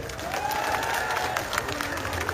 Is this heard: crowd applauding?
yes